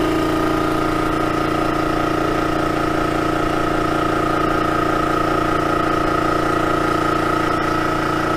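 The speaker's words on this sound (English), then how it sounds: "What you hear there is my compressor going." An air compressor runs steadily and loudly, a continuous droning motor hum with a constant rumble and no pauses, heard up close in a workshop.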